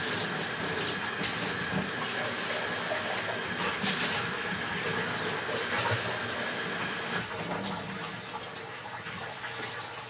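Tap water runs into a sink while an acrylic paintbrush is rinsed clean, a steady rushing splash that holds for several seconds before easing slightly toward the end.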